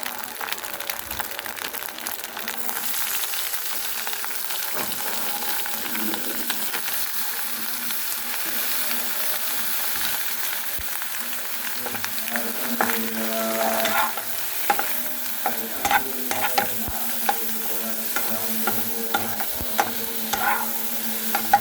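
Papaya frying with a fried egg in a pan, a steady close sizzle running throughout with spatula stirring and scraping knocks growing more frequent toward the end.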